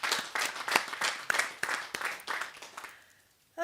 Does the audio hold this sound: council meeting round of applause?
yes